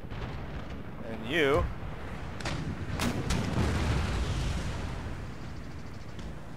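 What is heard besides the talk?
artillery firing in the video game Empire Total War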